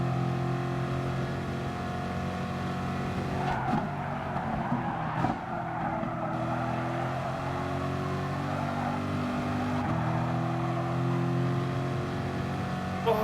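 Engines roar at steady speed in a Gran Turismo Sport online race as a GT-R hits the wall, with a brief scraping, skidding burst midway under the constant loud drone of the cars.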